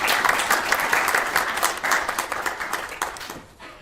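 Audience applause at a speaker-series event, a full, steady round of many hands clapping that tapers off and fades out in the final half second.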